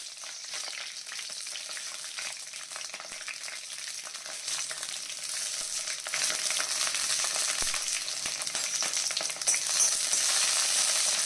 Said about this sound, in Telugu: కళాయి వేడైన తర్వాత ఒక గరిటె ఆయిల్ వేస్తున్నాను. ఇదిగోండి ఆయిల్ వేడైంది. ఇప్పుడు పచ్చిమిరపకాయలు ఇలా తుంచేసి వేసుకోవాలి.